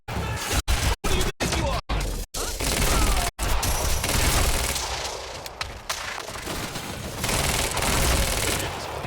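Loud, dense gunfire fills the scene: a string of sharp rapid bursts at the start, then continuous heavy shooting and crashing impacts in a chaotic fight on a campus during a power outage.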